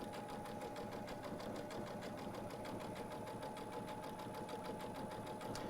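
A Baby Lock sewing machine fitted with a 7-hole cording foot stitches over sparkly decorative threads, running in a steady, fast, even whir throughout at moderate volume.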